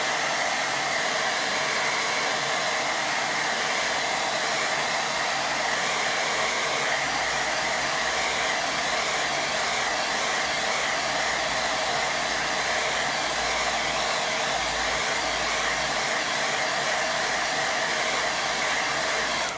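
A hair dryer blows steadily on a watercolour painting, a constant loud whooshing hiss with no breaks and no voices.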